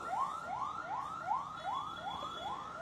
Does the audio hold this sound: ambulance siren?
yes